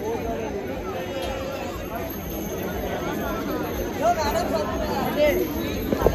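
A dense crowd of shoppers fills Sarojini Market on a Sunday, a steady close hubbub of overlapping voices and chatter with no pauses and occasional louder calls rising out of the babble.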